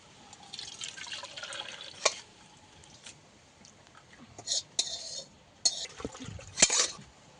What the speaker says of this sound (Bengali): ওই ছানাটাকে ছেঁকে নেব।